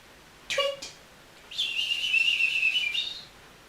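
A voice imitates birds singing in a children's bedtime story, giving a short whistled chirp and then a longer, sustained high warbling whistle, fairly close and clear against a quiet background.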